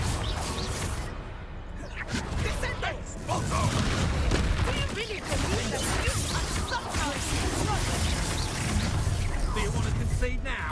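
Confringo blasting spells exploding in Hogwarts Legacy, dense crashing blasts and whooshes layered in rapid succession during a duel, loud and continuous, with voices talking through the fight.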